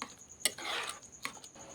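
A spoon stirs and mixes spices in a pan over a low gas flame, giving faint scraping with two brief metallic clinks against the pan, close by and quiet, with no talking.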